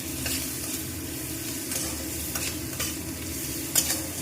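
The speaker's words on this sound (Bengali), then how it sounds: "ওটা আমি দিয়ে এবার আমি একটু নাড়াচাড়া করে নেব।" Chopped onion fries with nigella seeds while being stirred, giving a dense crackling sizzle and a few soft scrapes against the pan, close by and uninterrupted by speech.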